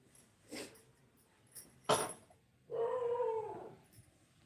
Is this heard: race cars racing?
no